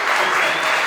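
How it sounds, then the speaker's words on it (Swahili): An audience at a youth political gathering in Kenya bursts into applause, a dense, loud, continuous clapping for about a second. "wapigiwe makofi"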